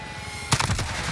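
Burst of gunfire in the video game Modern Warfare, a few quick sharp shots heard over a steady game background hum.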